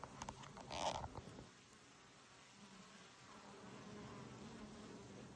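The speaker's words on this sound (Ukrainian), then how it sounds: "Ну і зараз бджола літає." Honey bees buzz faintly and continuously around the listener at an apiary, with a brief louder rustle and buzz close by at the start.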